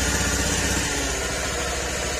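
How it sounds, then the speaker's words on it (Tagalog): Close, steady idle of a Honda Beat FI scooter with a deep, throbbing exhaust note, the pulsing rhythm loosening slightly partway through; no talking. "Ayan, tunog ng makina."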